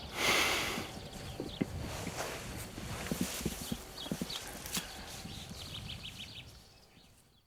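Donkey hooves clop unevenly on a hard surface, several animals walking at a relaxed pace, moderately close, with faint outdoor ambience and a bird or two.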